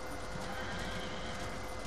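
A horse in the video game Darksiders neighs and its hooves clip-clop, fairly faint under a dense layer of game noise.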